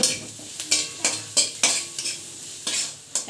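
Spoon stirring cumin powder and Kashmiri chili powder into mashed potato aloo paratha filling, with about eight close, distinct scraping strokes at an irregular rhythm and no talking.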